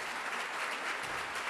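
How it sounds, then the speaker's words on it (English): A crowd applauds a panel after a discussion, steadily for the whole moment, a dense, even patter of many hands clapping with no voices on top. "How about a round of applause for our panel?"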